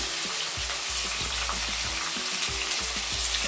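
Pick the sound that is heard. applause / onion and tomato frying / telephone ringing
onion and tomato frying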